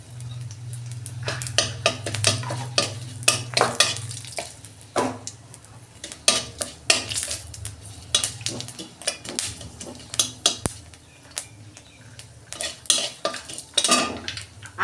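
Dried chilli and five-spice tempering frying in a little oil, close clattering of a metal spoon against the pan in quick irregular bursts over a faint low sizzle, no talk.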